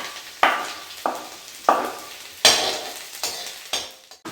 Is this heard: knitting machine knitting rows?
no